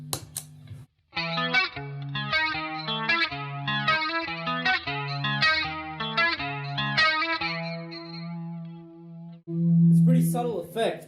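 An electric guitar runs through an Electric Mistress flanger and plays a steady arpeggiated chord pattern with a swirling, chorus-like sweep. The notes then ring out into a sustained tone, and a brief burst of voice comes at the end.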